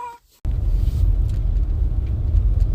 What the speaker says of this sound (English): It's fun part to driving on snow.